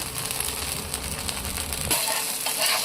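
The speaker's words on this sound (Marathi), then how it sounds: "छान ह्याला एकदम खरपूस भाजून घेऊया." A ragi (finger millet) dosa roasts crisp on a hot pan, giving a steady, close sizzle with a brief shift near the end as the sound grows slightly brighter and louder.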